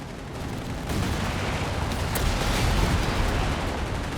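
Anti-tank gun firing in Company of Heroes 3 during an early-game 3v3 battle on Gazala, heavy booming shots and rumbling fire layered into a constant, dense wash of combat noise.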